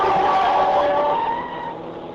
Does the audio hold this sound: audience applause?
no